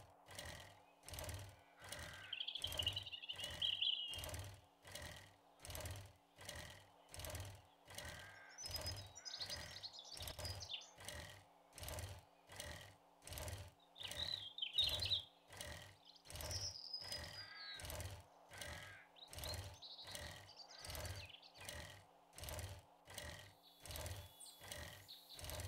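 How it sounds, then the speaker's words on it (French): Birdsong in the survival game 7 Days to Die (Alpha 21): scattered short chirps and tweets come and go over a steady, rhythmic mechanical thumping that runs throughout, with no one talking. "Ça se fait que j'ai des oiseaux chez moi maintenant."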